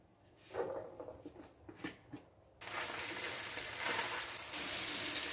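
Chopped large onion drops into hot oil in a pan and breaks into a loud, steady sizzle after a few soft clatters and stirring sounds.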